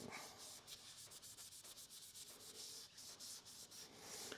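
An abrasive Scotch-Brite pad rubs steadily over a metal drill arbor, making a continuous close scratchy hiss with quick back-and-forth pulses and no talking.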